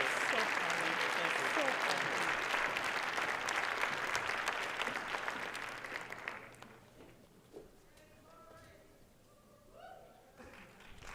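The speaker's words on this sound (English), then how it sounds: "Please join me in another round of applause" Audience applause at a Dr. Martin Luther King Jr. birthday celebration: loud sustained clapping for about six seconds that fades out, leaving a quiet room with a faint voice.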